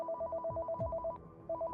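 An electronic telephone ringtone trills in rapid repeated pulses, two bursts separated by a short gap, clear and fairly close with no voices.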